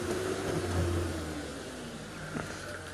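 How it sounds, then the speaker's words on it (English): Safari vehicle engine running as the car turns during a sunset game drive, a steady low mid-pitched drone with a faint whir and a slight rev near the end, no one talking. "we're going to have to just turn the car because they've gone behind us"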